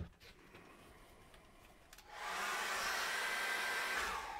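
A hair dryer switches on to dry thick acrylic paint on a handmade Christmas card, a steady loud blowing roar after a quieter start, with no talking.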